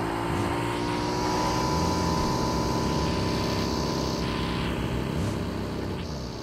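A motorbike engine in a battle royale video game drones steadily and loudly throughout, a continuous mechanical hum with no pauses.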